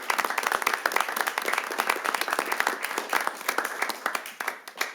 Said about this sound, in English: Let's give a big round of applause to everybody who presented tonight and all the great work